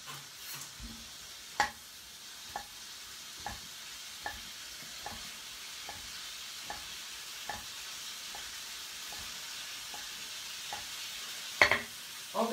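Three or four bacon rashers fry in a pan, a steady soft sizzle broken by regular stirring or scraping taps about once a second, close by and with no talk.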